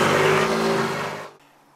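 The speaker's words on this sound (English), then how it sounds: "for the first time, has dual exhaust, producing a lot of good sound" A 2011 Ford Mustang's 5-liter V8 revs loudly through dual exhaust, a dense roaring burst that holds steady and then cuts off sharply, leaving a short fading tail with no talk.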